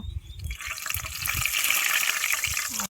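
Oil poured from a glass into a cooking pan makes a steady, close liquid rush that swells and holds for a few seconds, with no talking over it.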